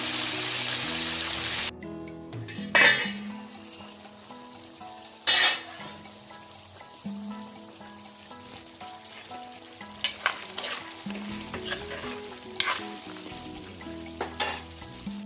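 Chicken pieces stir-fried in a pan with no water added, a steady close sizzle with repeated scraping and stirring strokes and occasional louder clanks of the spoon against the pan.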